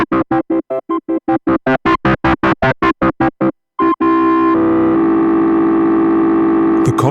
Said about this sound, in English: Higher levels push the chip into hard clipping, creating a harmonically rich distortion.